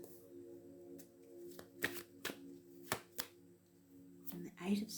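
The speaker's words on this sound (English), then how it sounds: "Let's shuffle again" A deck of tarot cards being shuffled close by, with several crisp riffling bursts and soft shuffles spread across a few seconds, otherwise quiet.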